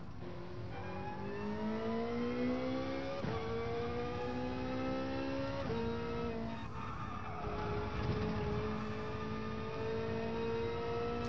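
A McLaren F1 race car drifts in GT Sport, its engine note rising and dropping through several shifts while tires squeal steadily, loud and close, with no talk over it.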